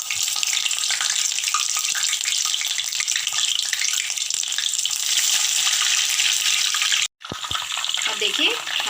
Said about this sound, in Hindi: अब हम कटहल को फ्राई करेंगे।